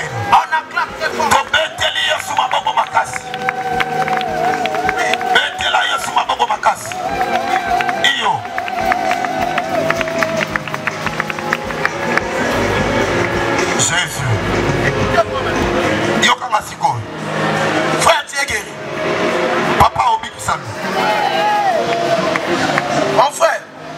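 A church congregation at a healing service cheers and acclaims loudly: dense, sustained crowd noise with shouting and applause-like bursts. Voices carry over it throughout.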